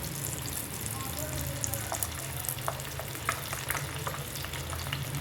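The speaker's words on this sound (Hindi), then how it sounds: "अब मैं डालती हूँ चिकन और इसको मैं करूँगी अच्छी तरह से फ्राई।" Coated, mostly precooked chicken fries in hot oil for a chicken pulao, giving a steady close sizzle with scattered crackles and pops throughout.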